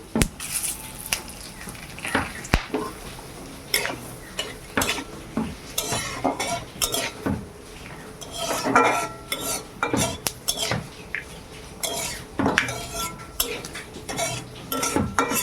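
Spoon clinks against a pan and stirring scrapes while whole cardamom, dried chili, bay leaf and panch phoron temper in hot oil, a string of sharp close metal knocks with a soft sizzle underneath, no voices.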